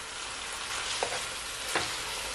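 Cabbage fries in a pan as seasoning and pimento seed are stirred in, a steady loud sizzle with two brief scraping stirs, close and with no voices.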